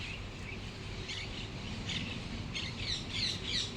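Birds that raid squash plants in a garden chirp and tweet faintly in the distance, with short high calls repeating over a quiet outdoor background.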